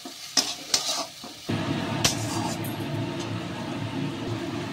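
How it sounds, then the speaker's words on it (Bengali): Spices being stir-fried in oil in a pan with salt for a prawn and spring onion curry, starting with a few sharp scrapes and clinks, then a steady close sizzle under ongoing stirring. "সব মশলাগুলো সুন্দর করে কষে নেব।"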